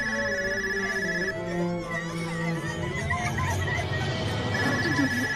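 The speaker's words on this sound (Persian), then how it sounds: "این تلفن کیست؟ صدا از اونجای دیگر می آید." A telephone rings in repeated electronic bursts, loud and close, with a gap mid-way while voices and commotion carry on underneath.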